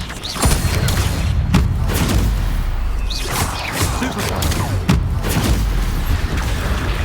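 Fire spell cast in Hogwarts Legacy, heard as deep booming bursts and whooshes over a constant rumbling game soundscape, with several loud thumps spaced a few seconds apart.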